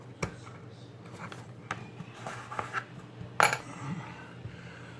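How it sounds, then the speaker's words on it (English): Metal Allen keys handled during assembly of a TLR 8ight T 4.0 RC truggy, scattered sharp clinks and rattles at irregular moments, close by, with one louder metallic clatter near the end over quiet room noise. "Like all of my Allen keys are the wrong size."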